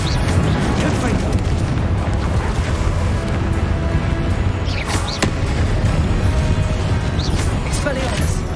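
Spell blasts and impacts in Hogwarts Legacy combat, a dense, loud stream of booming bursts and crackling hits with a sharp crack near the five-second mark, layered over continuous low rumble and game noise.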